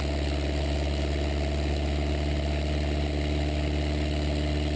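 A light aircraft's engine on its takeoff roll holds a steady, loud, close drone that stays even throughout, with no talking heard.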